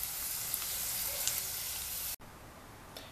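Pork skin frying for pururuca, a steady dense sizzle with scattered crackles and pops, close and fairly quiet, cut off briefly midway before continuing softer.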